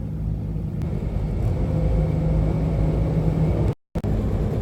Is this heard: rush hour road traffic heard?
yes